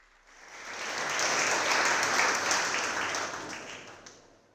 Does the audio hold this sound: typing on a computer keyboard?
no